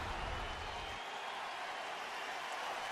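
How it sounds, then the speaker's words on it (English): Baseball stadium crowd gives a steady, broad wash of applause and cheering as a pitcher returns to the dugout, heard from a distance without a break. "Crowd applauding Greinke as he goes back to the dugout for the hard, legitimate slide."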